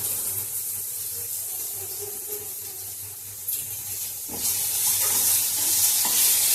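Dried red chillies, two Kashmiri and five regular, frying in oil for a parandai pickle, giving a steady close sizzle with occasional stirring scrapes that grow louder toward the end.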